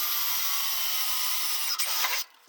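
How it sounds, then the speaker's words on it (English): Pneumatic rivet gun fastening a DIY aluminum race cabinet door, a loud steady high-pitched whine running continuously for about two seconds, with a brief change near the end before it cuts off and falls quiet. "Let's get a rivet here and on the other side."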